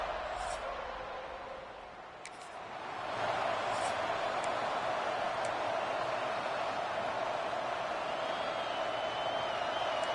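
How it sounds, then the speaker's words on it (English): A large stadium crowd in a college football video game roars in a sustained wash, swelling louder after a brief dip, with the steady tone of the Seminole war chant running through it. "you might as well get used to the sound you're hearing. The Seminole war chant is going forward."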